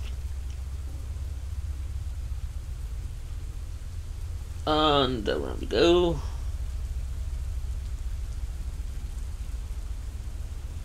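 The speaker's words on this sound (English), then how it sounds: "Why all that rain?" Steady rain falls in a horror video game set at a house in a forest at night, a continuous hiss with a low rumble underneath. Someone briefly talks over it midway.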